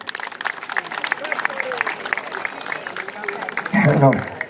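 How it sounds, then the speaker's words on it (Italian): An audience at an outdoor folk festival in a town square claps for a folk group, a scattered patter of applause running beneath an announcer's amplified voice and swelling briefly near the end. "mi fate un applauso per il gruppo folk Tattari"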